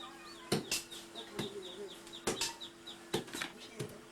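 Chickens roam freely through a town in Ghana, giving several sharp bursts of clucking and wing flapping at irregular intervals, while small birds chirp steadily in the background.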